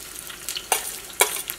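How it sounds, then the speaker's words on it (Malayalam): Dried red chilies hit hot oil in a pan, giving brief bursts of crackling sizzle with a few sharp pops and light stirring, close and alone. "അപ്പം ഇതിലേക്ക് നമുക്ക് കുറച്ച് ഓയിൽ ഒഴിക്കാം. അപ്പം ഇതിലേക്ക് നമ്മൾ മുളക് ഇടാട്ടെ."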